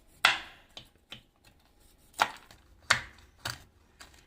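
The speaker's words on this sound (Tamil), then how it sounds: "ஃப்ரூட்ஸ் எல்லாம் வறுத்துட்டோம் பார்த்தீங்களா, அதெல்லாம் மிக்சியில் அரைக்காமல் இந்த மாதிரி ஒரு கத்தியை எடுத்து இப்படி கொஞ்சம் கொஞ்சமாக இப்படி நறுக்கிண்ட" A knife chopping roasted dry fruits on a board, sharp close thuds landing irregularly, a few loud strikes among lighter taps with short quiet gaps, no voices.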